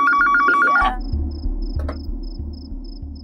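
A landline telephone rings indoors, a loud electronic trill cut short, followed by a rapid repeating beep pattern over a low hum, with no talking.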